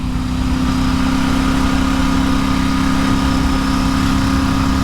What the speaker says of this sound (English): The tone of the exhaust is not as deep, but it's still got quite that rich tone, but it is a lot quieter.